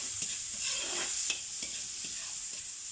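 Ginger, onion, tomato, garlic and long chili being stirred in a pan, a steady sizzle and hiss with repeated scraping strokes of the spoon, close and continuous, no talking.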